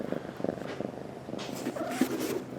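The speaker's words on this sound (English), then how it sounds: "This cat's just going to insist to be in the video." A cat purrs close by in a shop, a soft continuous rumble with faint shifting tones. It stays quiet and steady throughout.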